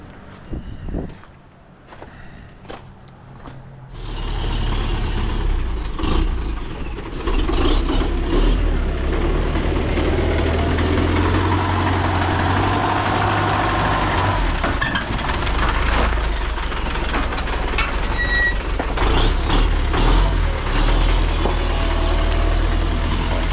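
A GAZ-3309 truck engine starting up and then running steadily at a loud, close idle, with a deep constant rumble after a few seconds of quieter clatter and occasional clanks around it.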